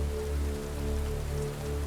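Steady rain drumming on a car body close by, a continuous patter with a low rumble underneath and no voices.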